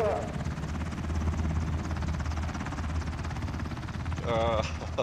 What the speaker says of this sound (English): Attention everyone, this helicopter will only stay for a short period of time.